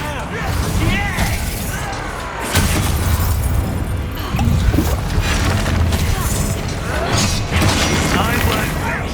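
Spell blasts from the Bombarda curse during a wizard duel in Hogwarts Legacy, a dense run of booming magical impacts and crashes that swell at several points, mixed with combat clatter and a voice talking over it.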